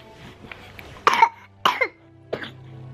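Three separate coughs from a small child, close by and fairly loud, spaced about half a second apart over a quiet background.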